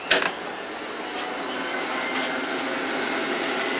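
An ECU-controlled electric cooling fan runs, switched on once its sensor is heated, giving a steady, loud broadband whoosh with no change in pitch, heard close and alone after a brief bump at the start.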